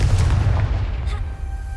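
A Confringo fire spell blasts in the Hogwarts Legacy video game, a single booming burst at the start that decays into a fading rumbling tail.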